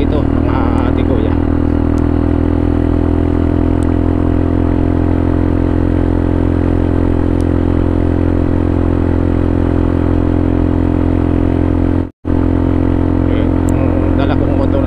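A motorcycle engine drones steadily throughout at a constant mid pitch, loud and close, with a brief cut near the end, riding a long uphill stretch of the Santa Elena-Capalonga bypass road.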